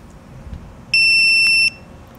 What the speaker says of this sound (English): To program your sensor, press the code button on the side for 6 seconds